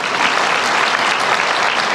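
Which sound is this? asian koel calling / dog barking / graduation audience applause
graduation audience applause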